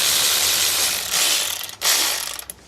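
Ratchet undoing the final gearbox nut on a Land Rover Defender 110, the gearbox slung on rope; a steady run of dense mechanical clicking that pauses once and resumes briefly, close and fairly loud with no talk.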